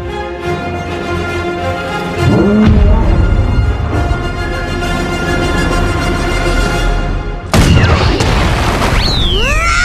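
A barrage of gunfire and explosions: loud continuous booming and rumbling with layered tonal noise, a sharp crash near the end followed by whistling, descending tones, no talking.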